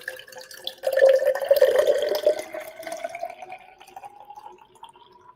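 A strained mocktail pours from a shaker into a frosted glass, a close liquid stream that swells loud at first, then thins into a rising trickle as the glass fills.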